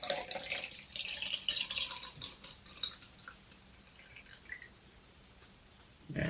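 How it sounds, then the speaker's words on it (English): Tap water runs into a Qlife Q Touch device to fill it, a steady splashing gush that fades to a lighter trickle, with a brief clunk near the end. "but basically fill it up with water"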